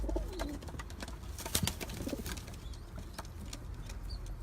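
Pigeons coo softly and repeatedly nearby, with bursts of wing flapping and a few sharp flutters over a low, constant background rumble.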